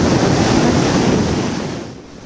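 Atlantic Ocean surf washing onto a beach, a loud, continuous roar of breaking waves with wind buffeting the microphone, easing off slightly toward the end.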